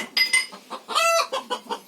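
Hen clucking loudly after laying an egg in a village in Alibag, a rapid run of sharp, close cackles rising to a drawn-out squawk in the middle, with no talk.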